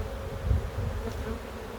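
Honeybees crowding a brood frame lifted from the hive, a dense close-up buzzing hum that swells briefly partway through and otherwise stays steady and unbroken.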